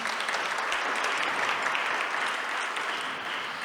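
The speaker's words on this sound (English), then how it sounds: "please give him a round of applause." An audience at a poetry reading and conversation event applauds, a dense, even wash of clapping that holds steady for a few seconds and then begins to fade.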